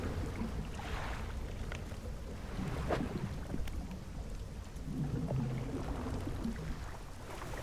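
A steady, low boat engine drones in the video game Dredge, mixed with a rain-like wash and a few faint knocks, with no talk.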